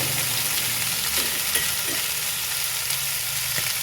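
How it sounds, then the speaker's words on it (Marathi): Carrot and brinjal pieces sautéing in a pan, a steady dense hiss of frying heard close, with a few faint soft knocks of stirring and no talking. "गाजर वांग टाकलं आपण चांगलं परतून घेतलेलं."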